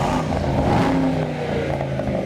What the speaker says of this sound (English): So if you press this button, this enables the sports exhaust. So you hear it's a bit more noisy.